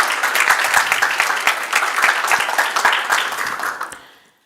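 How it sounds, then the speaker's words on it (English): An audience at a hybrid media literacy forum in Helsinki applauds steadily for about four seconds, dense and loud clapping that fades out at the end. "A round of applause for Michelle."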